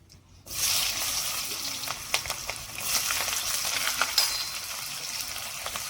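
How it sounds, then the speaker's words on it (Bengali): Chopped onion fries with whole cardamom, cloves and cinnamon for a light mutton curry, giving a continuous sizzle with scattered clinks and scrapes of stirring, steady and fairly close. "পেঁয়াজটা একটু ভাজা ভাজা করে নেব।"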